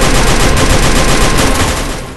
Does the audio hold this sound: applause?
no